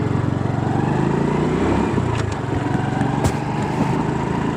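A motorcycle engine fitted with a ferrite bead on its spark plug idles and revs, a loud buzzy drone rising and dipping with throttle, with no talking.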